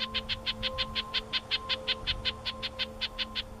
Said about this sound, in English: and the occasional utterance from a upset nuthatch.